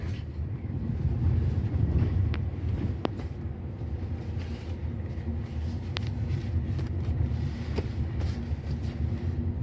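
Hyundai i20 car driving at night, heard from inside the cabin as a steady low engine and road rumble with a few faint clicks throughout.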